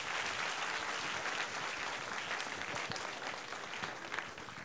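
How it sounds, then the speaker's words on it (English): An audience at the IYPT 2024 final in Hungary gives sustained, dense applause, a steady roar of many hands clapping at close range throughout. "Let's have a big applause."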